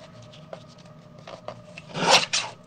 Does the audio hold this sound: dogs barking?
no